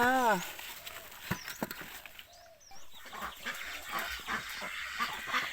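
Chickens and ducks cluck and call at feeding time in a farm garden, with scattered near and far bird calls mixed under a person talking.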